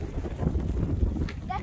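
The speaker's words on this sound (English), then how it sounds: "Definitely windy." Gusty wind from a Colorado thunderstorm buffets the microphone with a low, rumbling roar, and a brief voice is heard near the end.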